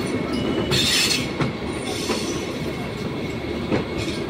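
A Vande Bharat Express train pulls out of New Delhi railway station, its carriages rumbling steadily and close, with a high wheel squeal early on and soft rhythmic clicks of wheels over rail joints.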